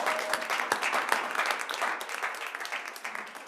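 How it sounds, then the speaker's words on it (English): An audience at a wilderness therapy conference claps in a steady, even wash of applause that continues throughout and fades slightly toward the end. "can we please give all of them a huge round of applause?"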